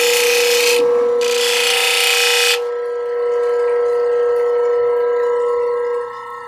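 A beach stone from Virginia Beach is ground on a 600 grit wheel, giving a loud rasping scrape in two bursts over a steady motor hum that continues alone afterward.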